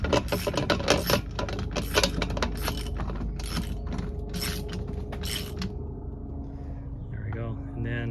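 A hand socket cranks a camper jack by hand, giving a steady mechanical ratcheting and grinding with metallic clicks over a low rumble, loud and close, continuing for several seconds before fading near the end.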